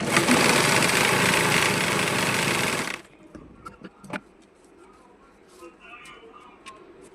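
A sewing machine stitches the border of a small puff sleeve, running loud and fast for about three seconds before stopping. Quiet handling and a few faint clicks follow.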